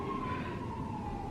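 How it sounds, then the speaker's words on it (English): A police car siren wails steadily in the distance, its tone sliding slowly downward over a low rumble of traffic. "I think it's a police car."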